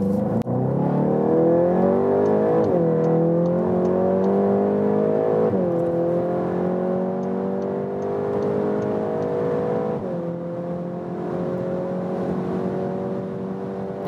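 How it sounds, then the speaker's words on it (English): A 2021 VW Golf 8 GTI Clubsport, front-wheel drive, accelerates hard from about 30 km/h, its engine note rising steadily through several gear changes, loud and continuous with no talking. "And now let's accelerate out."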